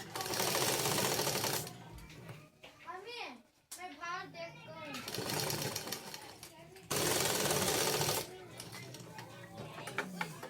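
A sewing machine stitching a border onto a top runs in two loud, steady bursts, at the start and later on, with voices heard in the quieter stretch between them.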